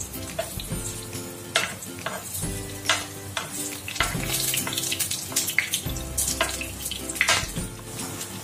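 Saba bananas frying in oil until golden brown sizzle loudly and steadily up close, with repeated scraping and stirring strokes in a regular rhythm on top of the hiss, and no one speaking.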